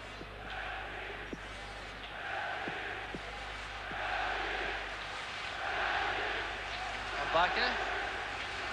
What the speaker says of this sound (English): The Belgian crowd supporting their favourites now, building up a chant behind the Belgian goal